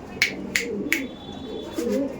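Mangalagiri pigeons from Andhra Pradesh cooing, low throaty coos rising and falling at close range, with a few sharp clicks early on.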